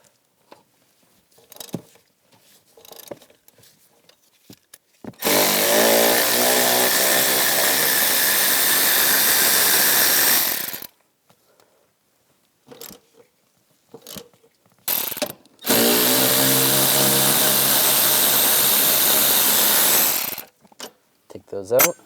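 Two long bursts of a power tool backing out T50 seat bolts on a 2010-2017 Chevrolet Equinox, each running about five seconds, loud and close, with a quiet pause and a few clicks between them.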